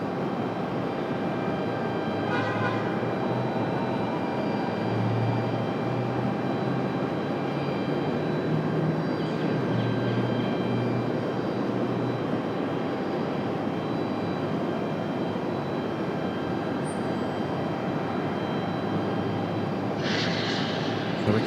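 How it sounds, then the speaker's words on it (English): Airliner engines run at Raleigh-Durham airport, a continuous distant roar that holds steady throughout with faint higher whines, no speech. "I hear another one starting up. I don't see it, but I hear another one. Starting engines."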